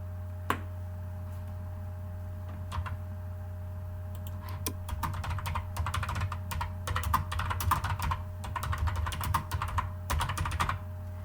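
Typing on a computer keyboard: a few isolated clicks at first, then a dense run of fast close keystrokes over a steady low electrical hum.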